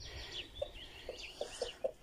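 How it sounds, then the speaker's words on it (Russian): Soft, scattered clucks from hens spaced through a hissy outdoor background, fairly faint and distant. "Курочки наши гуляют."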